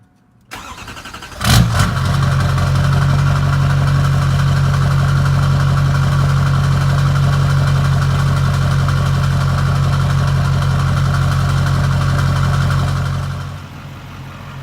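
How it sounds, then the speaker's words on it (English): A Duramax pickup's diesel engine cranks, catches with a sharp burst and then settles into a steady, loud, rumbling idle for about twelve seconds before shutting off. "I'm going to put the plate back on the Duramax and start her up"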